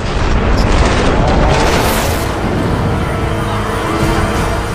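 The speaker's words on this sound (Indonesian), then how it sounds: "Adegan dibuka dengan adanya ledakan di Kota Tanpa Nama" A loud, sustained explosive roar in an action film with dense broadband rumble, like a blast in a city and its aftermath filling the whole clip.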